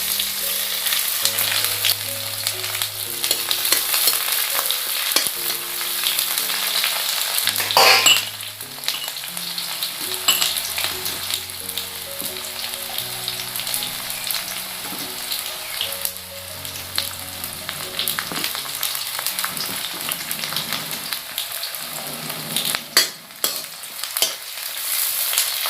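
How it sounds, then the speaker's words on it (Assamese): Chopped onions hit hot oil in a pan with bay leaves for a mutton curry, giving a loud, steady sizzle with repeated stirring clinks and scrapes over about twenty-five seconds, no voices. "এতিয়া কুটা পিঁয়াজখিনি ঢালি দিছোঁ।"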